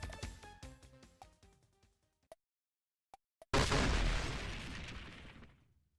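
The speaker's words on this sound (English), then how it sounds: "Explosions." Explosions in the video game Iconoclasts: a run of chiming game tones and a few sharp pops, then a loud, roaring burst that rumbles and slowly fades out.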